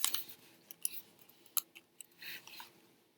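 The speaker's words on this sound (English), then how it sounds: "Then I'm gonna take that and put it upside down so that I can do another fold this way." Paper being folded into a crown, heard up close as soft crinkles, creases and scattered sharp crackles over a few seconds.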